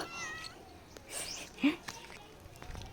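A small, high-pitched meow rises once, brief and close, with soft whispery voices and background rustle around it.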